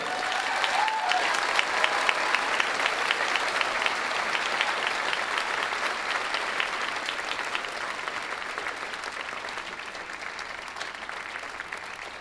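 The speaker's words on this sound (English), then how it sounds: "Please join me in applauding Quinn Dent for this prestigious award" Sustained applause from a large audience at a 2011 public affairs school commencement, a steady dense wash of clapping that carries evenly through the whole stretch and eases slightly toward the end.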